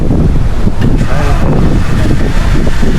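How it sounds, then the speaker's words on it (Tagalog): Strong wind buffets the microphone on a high mountaintop viewpoint at a hilltop palace, a loud, continuous roar filling the whole stretch with no pauses. "Lakas na. Ang hangin eh."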